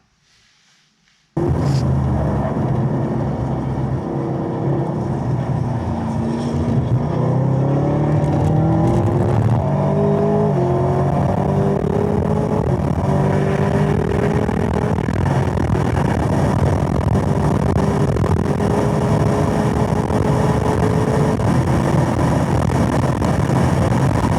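A Camaro ZL1 1LE at speed on a race track nears 160 mph, with a loud sustained engine roar that rises in pitch through the gears alongside heavy wind buffeting, starting abruptly after a brief quiet moment, and no talk.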